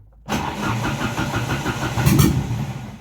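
An Opel Calibra engine, converted to rear-wheel drive, fires up for the first time after fluid is added, cranking and catching into a loud, close, rough idle that surges briefly near the end.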